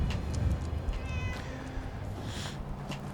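A cat meows a few times inside the game Fallout 4, soft and fairly close, with faint game ambience around it.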